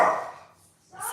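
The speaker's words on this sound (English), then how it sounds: "I really don't need you to bark." Dogs inside a home give a short loud bark or yip at the start, then quiet, then another burst near the end.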